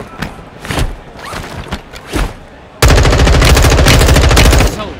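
Gunfire from a single-shot weapon in Warzone 2: a few separated loud shots early on, then a sudden dense, rapid burst of fire that runs steadily for about two seconds before cutting off.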